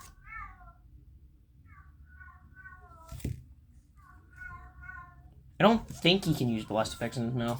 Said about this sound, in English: sorry if you hear a cat in the background. He's just meowing like crazy